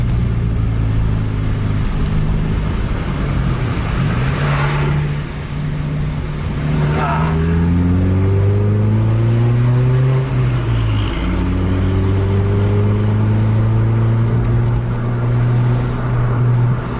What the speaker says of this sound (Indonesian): Main di trek lurus kalah ini double deck nih.